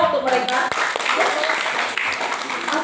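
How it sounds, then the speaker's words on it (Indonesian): A school audience claps for student performers at a literacy event in Waikabubak, a short burst of dense applause under a speaking voice. "Tepuk tangan dong untuk mereka."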